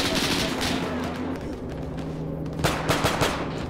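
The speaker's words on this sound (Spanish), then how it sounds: "Tenemos intercambio de disparos" Rapid gunfire is exchanged in the video game 82AD Liberation, dense bursts and shots crackling continuously over heavy battle noise, loud and close throughout.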